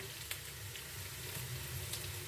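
Carrot tipped into onions already frying in a pan for a vegetable soup, giving a steady, close sizzle with faint crackles throughout and no talking.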